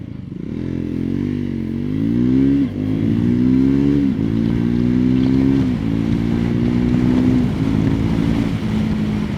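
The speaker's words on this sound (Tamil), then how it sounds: "இப்போது வந்து ஸ்டார்ட் பண்ணி லான்ச் கொடுத்து பார்க்குறேன் நான் எக்ஸாஸ்ட் நோட்டே சூப்பராக இருக்குது" A Triumph 400 XC motorcycle's engine and exhaust rev up loud and close, its pitch climbing through several gear changes with brief dips between pulls, no voices over it.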